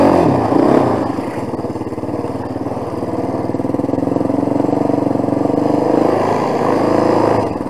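A 250 quad bike engine runs loud and close with a steady, buzzing drone, revving briefly at the start and then holding an even, slightly uneven throttle throughout.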